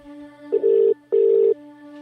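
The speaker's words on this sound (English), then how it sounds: "I am literally ringing the helpline." A telephone call to a helpline, heard as a steady tone with two longer tonal beeps in sequence, like a ringback or dialing signal over the line, clear and close with no speech.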